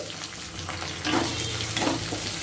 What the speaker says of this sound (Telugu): ఇప్పుడు ఈ ఉల్లిపాయ ముక్కని ఒక్క నిమిషం ఫ్రై చేసుకోవాలి